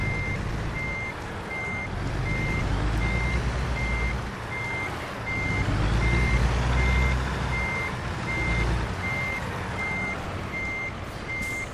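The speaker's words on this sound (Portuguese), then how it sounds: "Ele dá um alarme quando você tá chegando perto de um lugar pra pesar o caminhão." A dashboard device in a truck in American Truck Simulator beeps to warn of an upcoming weigh station, a steady evenly spaced series of short high tones over loud, rumbling engine and road noise.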